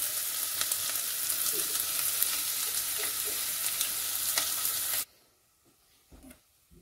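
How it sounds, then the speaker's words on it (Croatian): Onions sizzle steadily in hot oil for fish soup, a loud continuous frying hiss with small crackles, cutting off abruptly to near quiet with faint kitchen clatter. "Kad se ulje zagrejalo, dodajemo luka i pržimo ga 2 minuta."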